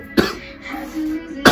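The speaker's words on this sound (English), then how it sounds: "Over here coughing like crazy." Two sharp, close coughs bracket a brief stretch of throaty, raspy sound, the second cough coming at the very end.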